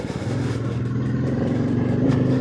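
A Royal Enfield Goan Classic 350 motorcycle engine and exhaust run at a steady, close, low rumble that holds an even note throughout, with no talking over it.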